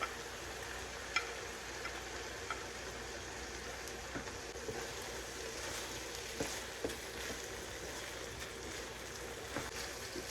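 Fresh cilantro gets stirred into a pan of cooking food after the heat is turned off, giving a soft ongoing sizzle with faint scrapes and light knocks of the utensil, quiet and steady.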